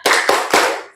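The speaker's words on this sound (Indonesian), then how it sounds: "Ya, semuanya tepuk semangat." Three sharp, loud group claps land in quick rhythm, a classroom cheer clapped together by a gathered group.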